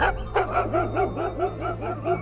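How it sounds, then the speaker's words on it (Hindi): A leashed dog in an animated horror story barks in a quick, steady series of about eight yelping, eerie barks, close and loud over a low hum. "लेकिन वो कोई आम कुत्ते की तरह नहीं भौंक रहा था।"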